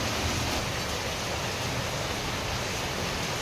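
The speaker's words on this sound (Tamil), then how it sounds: "செம்மையாக மழை பெய்யுது." Heavy monsoon-style rain pours down steadily in a broad, even wash of noise, close and loud and unbroken, with no voices over it.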